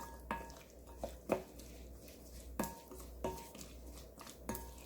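Garlic scapes being tossed with garlic and sesame seasoning in a bowl, soft mixing rustles punctuated by several sharp clinks of utensils against the dish, close and fairly quiet.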